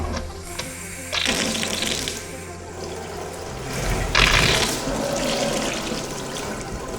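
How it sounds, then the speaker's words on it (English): Water runs from a newly installed kitchen faucet with its head removed, a loud, close rush that surges and changes as the flow is opened and adjusted, with no talk. "open the water up"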